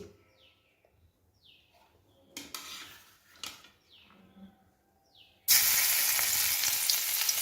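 Onion dropped into hot mustard oil in a pan, a loud burst of frying sizzle that starts suddenly and holds steady after quieter clinks and small bird-like chirps.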